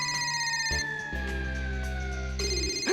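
A phone rings loudly with a steady electronic tone and shifting pitch across the whole stretch, close and without pause.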